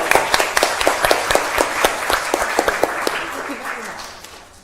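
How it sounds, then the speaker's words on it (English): An audience at a public astronomy talk gives volunteers a round of applause, with loud, brisk clapping from a sizable crowd that gradually thins and fades out as someone speaks over it. "Give them a big round of applause."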